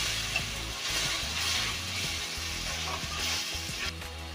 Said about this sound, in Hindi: इसमें हम टमाटर डाल देते हैं और हरी मिर्च डाल देते हैं। इन्हें चलाते हैं